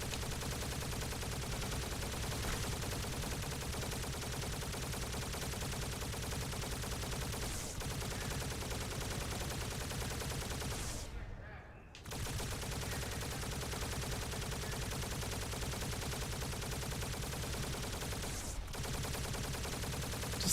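Sustained, dense gunfire from an overpowered weapon in the Halo video game, loud and continuous with only a brief break near the middle.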